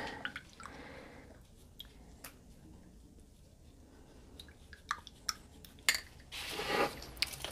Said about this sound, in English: we'll grab our little spatula to mix this in